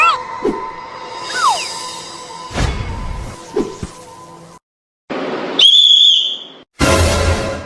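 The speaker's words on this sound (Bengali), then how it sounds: "রাজু, আবার বাঁশি বাজাইলে একবারে মাইর দেবো।" A whistle is blown hard in short shrill bursts, some sliding in pitch, then one long piercing blast and a final loud burst, set against a quiet indoor room with a few knocks.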